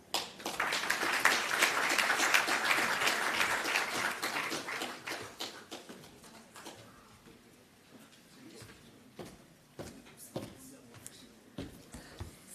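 An audience at a NEDLAC annual summit in South Africa applauds after a speech ends, a dense clapping swell that fades over several seconds into scattered individual claps.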